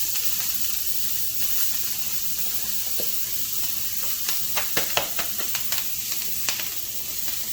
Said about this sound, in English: So with the hot skillet, you want to add in your vegetables. So this is the jalapenos.